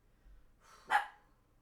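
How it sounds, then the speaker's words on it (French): A dog downstairs lets out a single bark, fairly quiet and somewhat distant, standing alone against a low, quiet background with no talking. "C'est les chiens d'en bas qui aboient."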